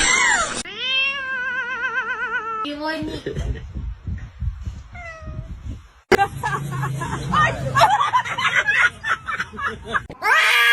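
A kitten meows in drawn-out, wavering cries, one after another, while people talk and laugh around it.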